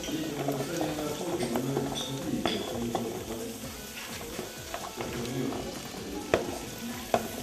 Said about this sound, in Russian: видим жир кипит